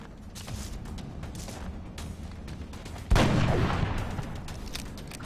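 Soldiers' gunfire in the turn-based strategy game XCOM: Long War, a continuous rumbling crackle of shots under a low background bed, then a sudden loud burst with a booming low end that slowly decays.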